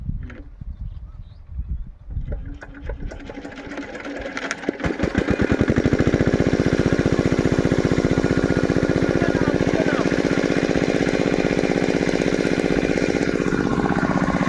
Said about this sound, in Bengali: স্টার্ট দিয়ে দিছি মেশিন।